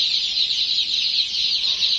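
A steady, dense high chirping chorus of chicks fills the clip, many peeping together without pause.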